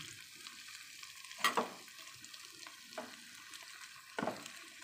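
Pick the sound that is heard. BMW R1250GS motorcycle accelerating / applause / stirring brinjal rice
stirring brinjal rice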